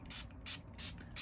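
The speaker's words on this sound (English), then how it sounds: "I'm going to spray some rose water" Rose water is spritzed from a pump spray bottle in four quick hissing bursts, evenly spaced and close by, with no talking.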